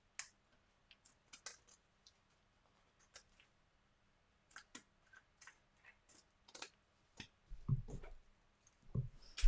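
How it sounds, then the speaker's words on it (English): Crafting scissors snip away excess paper on a Stampin' Up! project, a scattered series of sharp, quiet clicks and snips with no talking, growing into louder, rougher cutting and rustling toward the end. "Those handy dandy scissors cut off the excess."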